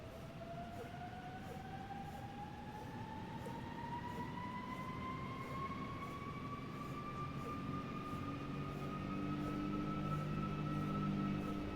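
Steady, rising whine of airliner jet engines in the ToLiss aircraft in X-Plane 12, a continuous drone with tonal whistles climbing in pitch under broadband roar, with no talking.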